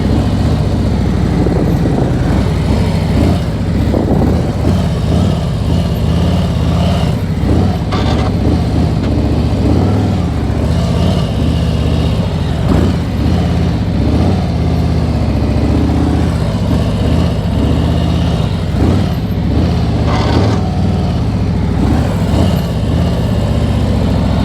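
Motorcycle riding through an intersection on a practice course, a loud continuous engine drone with low rumble, shifting in pitch as it moves, no talking.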